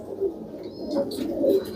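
Firozpuri pigeon, an aged hen, cooing close by in a few soft, low repeated coos, with faint chirps in the background.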